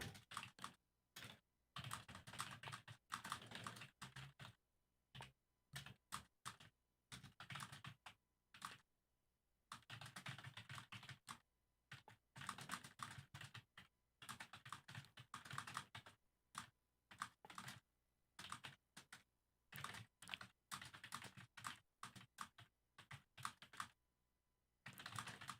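Computer keyboard typing in irregular bursts of rapid key clicks separated by short pauses, fairly close and clear, continuing throughout with no talking.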